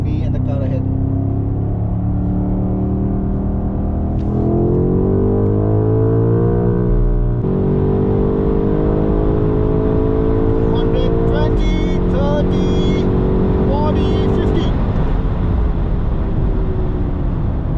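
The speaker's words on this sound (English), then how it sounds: "You can clearly listen to the V8 burble on this car. The exhaust and the engine sound on this car is very different from everything else." A seventh-generation BMW M5 V8 pulls hard on an Indian road, its deep, bassy exhaust rising through the gears in long, loud sweeps with brief shifts between them, heard from inside the car.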